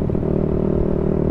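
A Yamaha Daytona motorcycle engine idles steadily through its exhaust, running on Shell Advance oil, a loud, continuous low rumble with a slight rattling clatter and no voices.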